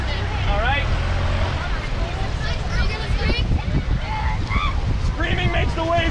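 Whitewater waves crashing around a raft on the Thompson River gorge in British Columbia, a loud rushing roar with wind buffeting, while people shout and scream over it.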